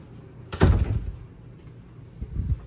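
A door closes with one solid thump near the start, followed by quieter rattling and a couple of soft knocks as it settles.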